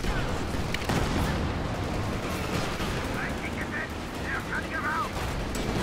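Tank cannon and small-arms gunfire from a Company of Heroes 2 battle, with Pershing and Jackson tank destroyers firing armor-piercing rounds: a dense, continuous battlefield roar with a sharp blast near the start, and a commentator talking over it.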